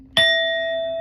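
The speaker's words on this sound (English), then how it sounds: "We're going to hit this bell" A single bell struck once to cleanse tarot cards rings out clearly, its bright metallic tone sustaining and slowly fading with no voices.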